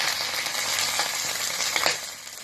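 Meat sizzles and crackles in hot oil as it sautés for bulalo, a dense, close frying hiss with a few stirring scrapes, brief and unaccompanied by talk.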